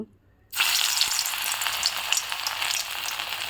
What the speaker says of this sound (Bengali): এবার আমি একটা একটা করে কিন্তু বড়াগুলো কিন্তু ভেজে নেব